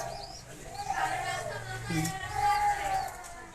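Pakistani-blood pigeons coo softly and repeatedly in a close, quiet setting, with low throaty calls under someone speaking.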